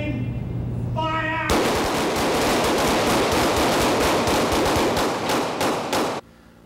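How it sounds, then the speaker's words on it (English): Rapid gunfire from a firing squad bursts out after a brief tone, a dense run of loud, close shots rattling for about five seconds before stopping abruptly. "Firing squad, aim, fire!"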